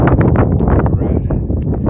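Heavy wind buffets a nearby microphone outdoors in Manfredonia, Italy, a constant low rumbling roar with gusty fluctuations and faint rustling throughout.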